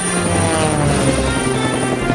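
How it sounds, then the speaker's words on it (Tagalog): An airplane flying in to land, heard as a loud, steady engine and propeller drone with a buzzing tonal hum, close and continuous for a couple of seconds with no talk. "Tutulungan ni Ken na mag-landing ang eroplano ngayon"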